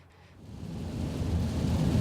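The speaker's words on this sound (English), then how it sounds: "we had some strong storms coming through with torrential rain and lots of wind" Thunderstorm in Central Texas with torrential rain and wind, a deep rolling rumble of thunder swelling louder over a steady wash of rain, no voices.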